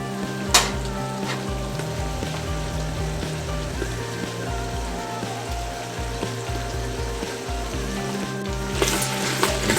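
Onions and garlic sizzle steadily in a pan for green beans with potatoes, a dense crackling frying sound with occasional stirring clinks, near and continuous with no talking.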